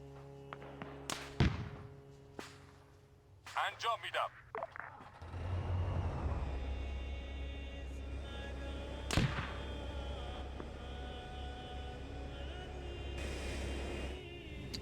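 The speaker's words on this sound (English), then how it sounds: "But looks like he's shooting." Gunfire in an Arma 3 military battle, heard as sharp separate cracks and bangs early on, followed by a steady low engine rumble like a vehicle and another loud thump near the middle.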